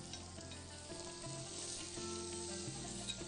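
Chicken breasts frying in a pan, a steady, close bed of crackling sizzle, with occasional stirring clatter and kitchen background under it.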